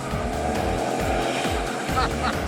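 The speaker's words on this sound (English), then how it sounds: "if you're doing a tire burnout, i.e. screeching your tires on the pavement" Car tire burnout during a stunt-driving test on a track, a loud continuous engine roar with rough low rumble and faint tire squeal streaks near the end, steady and close throughout.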